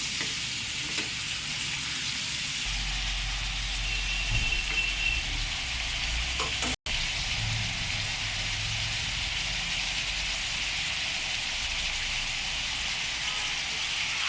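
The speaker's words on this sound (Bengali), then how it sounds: "চিকেনটা হালকা ফ্রাই করে নেব, বেশি ফ্রাই করব না।" Chicken pieces lightly frying in a pan give off a steady, broad sizzle, with a low rumbling undertone that sets in a few seconds later. The sound is close and continuous, broken only by a brief dropout partway through.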